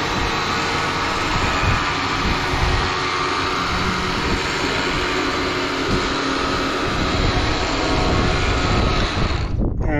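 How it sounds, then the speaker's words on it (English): A winch reeling in a lost excavator thumb and its attached equipment, heard as a loud, steady mechanical drone with continuous rumble that holds for about ten seconds before cutting off sharply near the end. "I'll start videoing as I winch in the thumb and that equipment"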